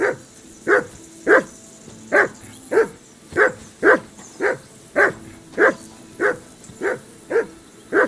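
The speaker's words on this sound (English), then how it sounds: "Get that mutt of yours to stop barking, will you?" A dog barks repeatedly in Kingdom Come Deliverance 2, the medieval role-playing game, giving about a dozen evenly spaced, loud, nearby woofs with no voices.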